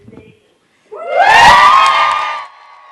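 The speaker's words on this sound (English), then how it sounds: "there was just an eruption of clapping and cheering" A crowd of hospital staff at Medical University of South Carolina erupts in loud cheering, whooping and clapping after a brief murmur, the shouts swelling and holding close before fading.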